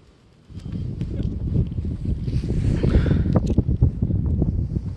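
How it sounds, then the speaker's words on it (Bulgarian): Wind outside during a storm buffets and rumbles, starting suddenly and building into a strong, gusty roar that keeps swelling. "Вънка вятъра расте по сила"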